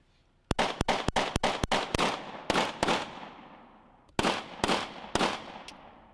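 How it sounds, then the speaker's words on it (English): Gunfire in a marksmanship test, probably from a video game: a quick volley of sharp, loud shots, then a pause and a second, shorter burst, each crack decaying with a brief tail. "Let's see if Duane Davis can prove that he's not a bad shot."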